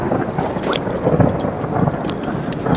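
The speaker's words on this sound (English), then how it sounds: "Yep, there's the rain. Time to go. And the lightning." Steady heavy rain pours during an outdoor thunderstorm, with low thunder rumbling throughout in a dense, continuous wash of sound and no speech.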